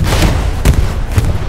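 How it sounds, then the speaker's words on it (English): A bazooka fires in the Hell Let Loose war game, a loud close boom followed by a second heavy thump a moment later, set against rumbling battlefield noise. "Gary, shoot that Gary with the bazooka."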